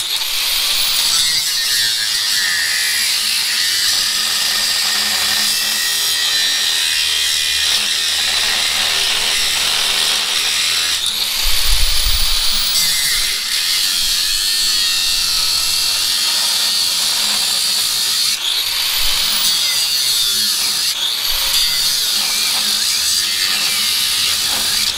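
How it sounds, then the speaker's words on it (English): An angle grinder fitted with a bigger cutting disc trims away a metal ledge under a GM Tahoe/Yukon/Suburban, a loud, steady high-pitched whine with grinding scrape that holds throughout, close and alone. "So I put a bigger disc on, and now we will be able to reach back in there and trim off that back ledge"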